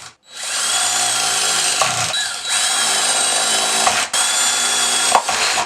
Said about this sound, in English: drilled pocket holes in each end